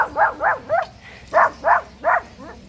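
A dog giving a series of barks and yips in two rhythmic bursts of three, fairly close and clear, with no talking.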